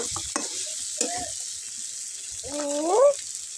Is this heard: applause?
no